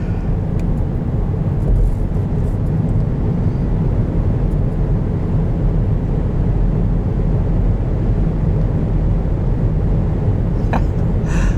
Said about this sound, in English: you can hear the induction noise